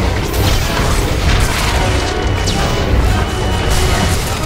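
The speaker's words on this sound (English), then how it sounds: "Another swing from the Annihilation droid's cannon sends the Juggernaut flying." An Annihilation droid's cannon smashes into a fighter during the Eternity Vault battle in Star Wars: The Old Republic, a loud, dense crashing boom with heavy low rumble and clatter sustained over a few seconds.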